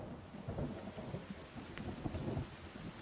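Heavy rain pours steadily in a thunderstorm in the survival game The Forest, with low rumbling thunder churning under the dense, close downpour throughout, and no voices.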